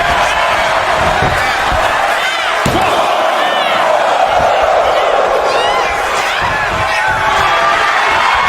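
A Spanish butterfly slam from the top rope in a TNA Impact wrestling match, a sharp thud over a loud, steady arena crowd roar while an announcer talks throughout.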